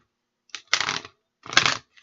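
Tarot cards being shuffled by hand: two quick riffling bursts separated by a short pause, close and crisp with silence around them.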